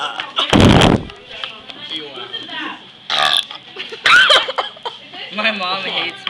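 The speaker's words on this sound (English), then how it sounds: "Yeah, I'm trying to burp." Girl burps loudly and deeply after chugging a drink. It is one long belch followed by shorter croaky burps, with laughter and chatter between them, all close up.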